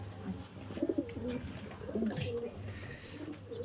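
A pigeon coos nearby in soft, low, throaty bursts, with a few repeated calls against a quiet background.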